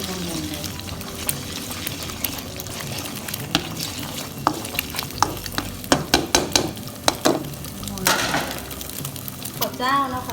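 Spatula scraping and stirring egg in a hot frying pan while making fried rice with fermented pork, with repeated clinks and scrapes over steady sizzling and a voice talking nearby.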